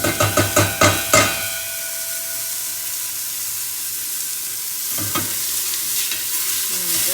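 Vegetables for a quick, thin soup sweat in rapeseed oil in a pan, starting with a few sharp stirring clatters, then settling into a steady soft sizzle with another brief stir near the end.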